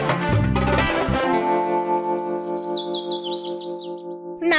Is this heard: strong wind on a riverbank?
no